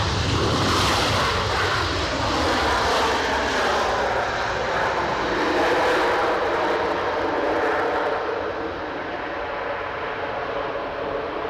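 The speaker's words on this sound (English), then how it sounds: "Ryanair 737 has now arrived." A Ryanair Boeing 737 airliner arriving at Edinburgh Airport, a loud continuous jet engine roar that swells and then eases slightly toward the end, without speech.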